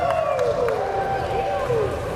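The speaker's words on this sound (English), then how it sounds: "A round of applause to the pilot" Crowd applause for a drone pilot at a Maker Faire drone-racing show, a steady dense patter of clapping mixed with crowd noise, with a high whining drone motor tone running through it.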